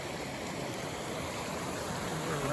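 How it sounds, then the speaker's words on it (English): A mountain stream in the Rae Lakes area along the John Muir Trail rushes steadily and loudly, a continuous close wash of flowing water with no voices. "Beautiful streams"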